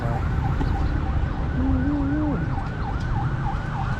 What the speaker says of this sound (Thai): รถกู้ภัย